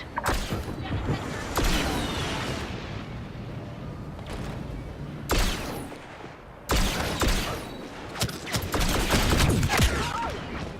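Blaster fire aimed at A-Wing starfighters in Star Wars Battlefront 2, bursts of rapid shots in clusters separated by brief lulls, loud and near against a rumbling battle backdrop.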